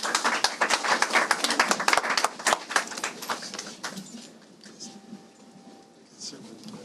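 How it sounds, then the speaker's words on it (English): Applause from the audience at a news conference on galamsey held by a media coalition, a close burst of dense clapping that thins out and fades over the last few seconds. "let's give another round of applause"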